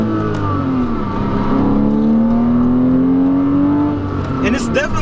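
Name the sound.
2008 Porsche Boxster 5-speed manual engine accelerating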